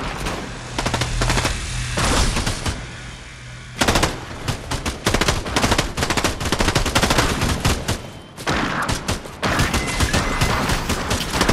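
Rapid automatic turret gunfire in the video game Fortnite, loud close bursts of fast repeated shots with brief pauses between volleys, continuing across the stretch with no talk.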